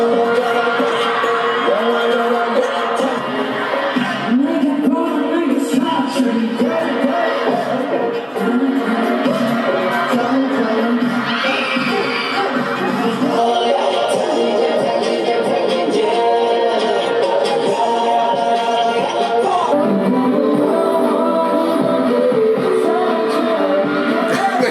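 A concert crowd of girls screams and cheers nonstop, a dense, loud wall of shrieks and whoops that holds at full intensity from start to finish.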